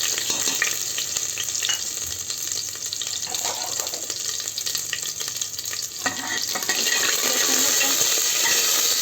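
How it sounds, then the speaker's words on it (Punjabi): Garlic with cumin, coriander and black pepper fries in a pan with a continuous close hissing sizzle and occasional stirring scrapes, steady and fairly loud throughout without speech, for a green chickpea rice dish. "2 ਮਿੰਟ ਲਸਣ ਆਪਾਂ 2 ਮਿੰਟ ਭੁੰਨਦੇ ਆ"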